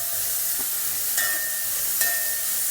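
Finely chopped medium onions sautéing in a pan for Kerala-style chicken stew, a soft steady sizzle and hiss with a few faint stirring clicks, no voices.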